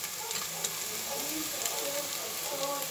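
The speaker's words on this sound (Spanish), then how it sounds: "ya está el aceite, le vamos a echar el achiote" Achiote dropped into hot oil in a pan with cooked onion for seafood rice gives a steady, soft sizzle with faint crackles and light stirring scrapes, heard close and fairly quiet.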